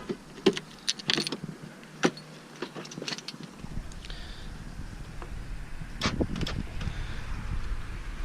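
A car key on a ring with a small green fob and a keychain, jangling in a few quick metallic bursts at the start, followed by faint rustling and handling noise inside a car.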